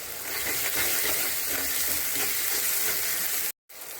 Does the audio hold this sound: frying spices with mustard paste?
yes